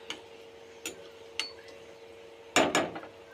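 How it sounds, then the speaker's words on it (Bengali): Vegetables being stirred in a pan with a utensil, giving a handful of separate metallic scrapes and clinks: a few light taps early on, then a louder cluster of two close scrapes near the end, all fairly close and with no talk. "ভালোভাবে নেড়ে চেড়ে"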